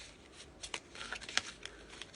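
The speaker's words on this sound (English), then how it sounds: "Now I'm just shuffling." Tarot cards being shuffled by hand, a soft papery riffling with scattered crisp flicks and slaps, close and fairly quiet, with no talking.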